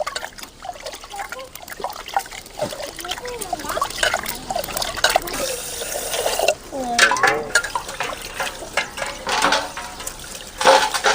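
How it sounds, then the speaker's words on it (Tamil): Rice is rinsed in water for masala coconut rice, with trickling, swishing and pouring liquid sounds in irregular bursts while someone talks throughout. "அரிசி நல்லா கழுவி எடுத்துக்கணும்"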